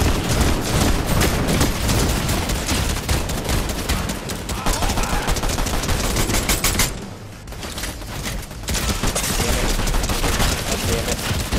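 Rapid bursts of gunfire from a multiplayer video game shootout keep up almost without a break, loud and dense, with a brief lull midway and players talking faintly underneath.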